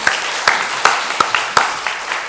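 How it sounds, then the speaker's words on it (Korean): A church congregation claps together in praise of God during Sunday worship on the church's founding anniversary, with scattered hand claps and sharp peaks over a steady hiss. "하나님께 영광의 박수 돌려드리겠습니다."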